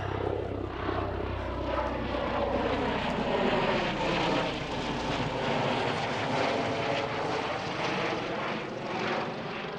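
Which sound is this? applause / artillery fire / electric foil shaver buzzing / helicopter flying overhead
helicopter flying overhead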